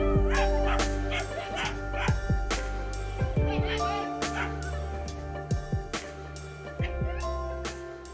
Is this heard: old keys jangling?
no